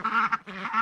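Farm ducks kept alongside chickens give two drawn-out, nasal quacks, loud and close, with a brief gap between them.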